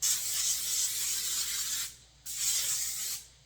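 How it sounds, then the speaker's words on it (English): Two long bursts of hissing aerosol spray, close and steady, separated by a brief pause. "now I'm going to spray paint this."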